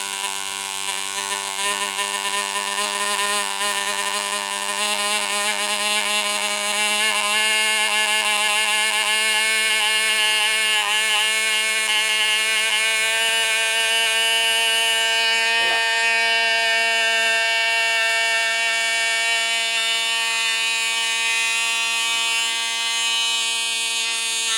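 Old Enya 15III model glow engine with a three-piece piston, small bore and small glow plug, running steadily with a continuous high-pitched buzzing whine and many harmonics, loud and close, no talk over it.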